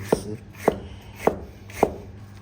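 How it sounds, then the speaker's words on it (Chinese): Green onion chopped with a knife on a cutting board: four evenly spaced, crisp thuds of the blade, close and clear, with no voices. "葱给它切一切"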